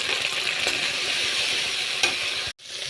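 Okra frying with shrimp, salt and turmeric in a pan for a bitter neem-leaf dish, a steady close sizzle with a few scraping stirs and a brief abrupt break near the end.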